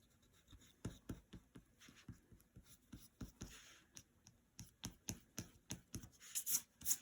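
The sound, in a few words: eraser rubbing out a pencil line on paper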